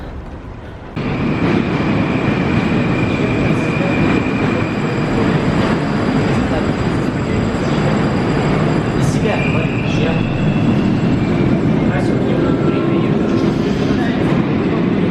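Moscow metro train running underground, a loud, steady roar and rumble of the carriage with rail noise and faint squeals, continuous throughout after a brief quieter start, with some talk underneath.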